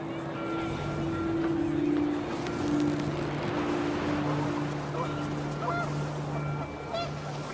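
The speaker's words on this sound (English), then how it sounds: "The wind picked up, and panicked geese appeared and quickly went." Panicked geese honking repeatedly over a gusting wind rush in the game What Remains of Edith Finch, the calls close and overlapping, with a narrator's voice talking on top.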